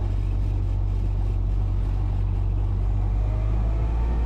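A 1931 Ford Model A four-cylinder engine drones steadily while driving, a loud, close, low rumble with constant road noise and no talking.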